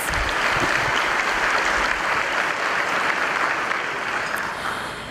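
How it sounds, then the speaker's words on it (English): Audience applause for the Harker Heights High School Orchestra Ensemble and its director at a foundation awards evening, a loud, dense, steady wash of many hands that continues throughout and eases slightly at the end. "Please give another round of applause to the Harker Heights High School Orchestra Ensemble and their director"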